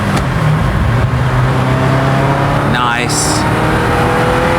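A Ferrari 348 Spider's V8 engine drones steadily with the roof down, a continuous loud rumble with a brief rising rev near the end, heard from the driver's seat while someone speaks a word over it.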